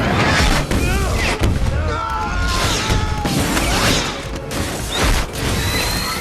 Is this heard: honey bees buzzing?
no